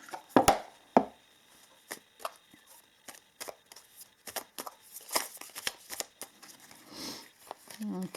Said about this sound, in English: So let's pull some cards from the Whispering Woods.